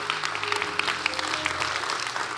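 Church congregation clapping during an altar call, a steady wash of many hands with faint background tones, moderately loud and continuous.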